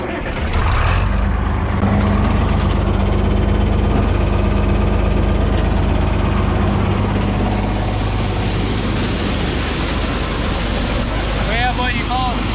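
A John Deere tractor diesel engine on a farm during soybean harvest rumbles to life and settles into a loud, steady low idle close by, with someone talking over it and a brief squeak near the end.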